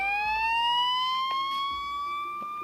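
A Minecraft siren wails steadily with a slowly rising pitch, loud and continuous, with faint clicks and knocks beneath it.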